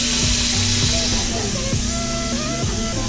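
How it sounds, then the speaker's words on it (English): Butter (actually margarine) sizzles steadily in a frying pan on the stove, a continuous loud crackling hiss filling the whole stretch, with faint clinks and stirring noises mixed in and no talk. "Let that sizzle."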